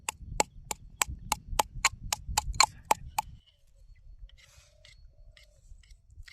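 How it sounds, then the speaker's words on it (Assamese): Food being pounded in a mortar in a home kitchen, a steady run of about ten sharp, evenly spaced strikes up close, then stopping and leaving faint rustling and small sounds. "আমি এতিয়া খুন্দি আছোঁ"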